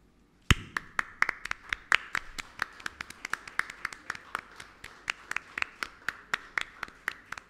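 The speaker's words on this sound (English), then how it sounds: "Let's have a big round of applause." Audience applause at the inauguration of a World Skill Centre, beginning abruptly with a loud clap and continuing as steady, evenly paced claps from a fairly small crowd, fairly close and without talk.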